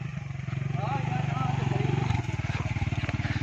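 A motorcycle rides a rough, badly broken road in the Kachy countryside, its low engine throbbing steadily and close for the whole stretch while people talk over it.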